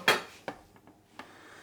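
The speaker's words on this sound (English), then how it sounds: "Cut 1/2 into strips for my salad, and the other half fine for the stir fries." A knife chops a red pepper into strips on a cutting board in a home kitchen: three sharp, close knocks, the first loudest, then two softer, spaced about half a second apart, with no voices.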